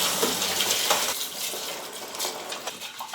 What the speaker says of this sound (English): That's the excess starch that I'm washing out. I'm going to rinse it a couple of times.